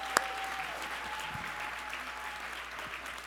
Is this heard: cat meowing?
no